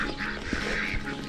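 Ducks quack on an organic farm where chickens roam alongside them, a continuous close chorus of harsh calls over steady outdoor noise.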